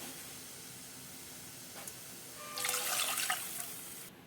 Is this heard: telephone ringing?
no